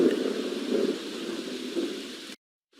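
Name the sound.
rain sound effect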